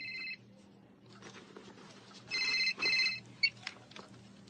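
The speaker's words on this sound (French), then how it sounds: "C'est le téléphone de qui?" A telephone rings with bright electronic warbling tones in several short bursts, near and clear, over a quiet room hum with faint movement noise.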